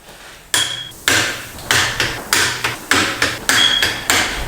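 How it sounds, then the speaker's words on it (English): A torque wrench set to 24 newton metres tightens the bolts on a beadlock wheel ring, giving about eight loud, sharp metallic snaps at a fairly regular pace, each dying away quickly, close by with no talking. "Keep going around with the torque wrench at 24 Newton meters until it all clicks"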